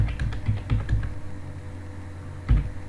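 Keys clack on a computer keyboard during a Microsoft Word mail merge: a quick burst of close keystrokes, a pause, then a few more taps, with a low background hum and no voices.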